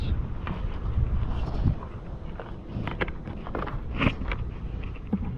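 Gusty wind buffets an outdoor beehive during a spring check, a steady broadband rumble with soft knocks and bumps from handling the hive scattered through it.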